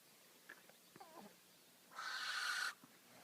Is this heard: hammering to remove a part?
no